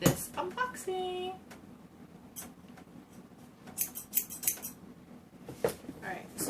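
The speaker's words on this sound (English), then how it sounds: "Now I have scissors." Scissors snip open an iHerb shipping package up close, with a few quick cuts and rustling plastic and paper, and a voice speaks quietly in the background.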